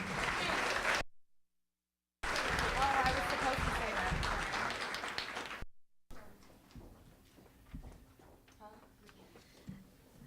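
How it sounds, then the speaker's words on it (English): Applause for freshman girls at a fall sports banquet, a loud burst of clapping that cuts out, resumes, then fades into quieter room sounds with voices. "So, applause for the freshies."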